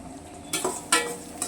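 Onions frying in a pan for a lunch-box egg and stuffed brinjal dish, a soft background sizzle broken by two or three brief scraping stirs, close and fairly quiet.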